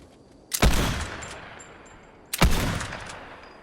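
Two loud lever-action rifle shots fired in the Fortnite video game, each a sharp crack followed by a long booming decay, about two seconds apart, with no talking.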